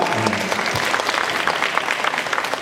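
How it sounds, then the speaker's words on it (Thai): Audience applause for a guest who was the first Thai to summit Everest, dense and steady throughout with crowd noise and a brief low voice near the start. "ผมขอเสียงปรบมือให้พี่หนึ่งหน่อยครับ"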